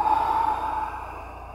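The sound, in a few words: exhaling breath during yoga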